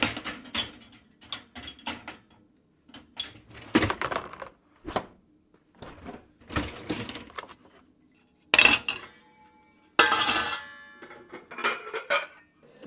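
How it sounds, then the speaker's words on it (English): Dishes and cutlery clink and clatter as a dishwasher is loaded, in irregular bursts of sharp ceramic and metal knocks separated by brief pauses, fairly close and loud. "Good, well, let's put this dishwasher on."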